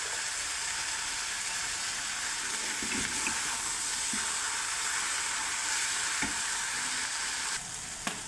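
Carrot and tomato bhaji fries with ginger-garlic paste in a pan, giving a steady close sizzle and hiss with occasional soft stirring knocks and no talking.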